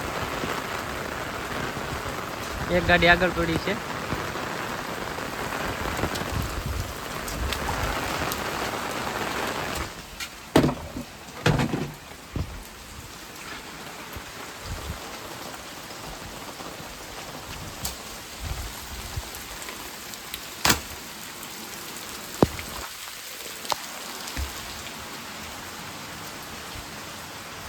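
Steady rain patters on surfaces around a yard where two vehicles stand soaked, a broadband hiss with scattered louder drops and knocks, under a brief spoken phrase.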